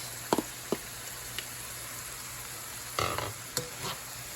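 Tomatoes added to spinach cooking in a pan, a soft steady sizzle with a few sharp clinks and a short burst of stirring and scraping, fairly quiet and close.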